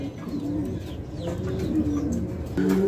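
A pair of Lokkha pigeons at a breeder's loft coo close by in short, throaty bursts, with a stronger round of cooing at the end and faint bird chirps behind.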